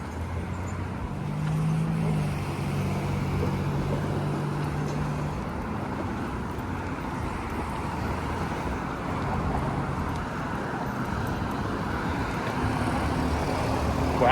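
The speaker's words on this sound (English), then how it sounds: "I guess so many cars out on the road." Steady stream of cars and other traffic on Islington Avenue in Etobicoke on a warm October day, a continuous loud roadside roar with vehicles passing close by, no talking.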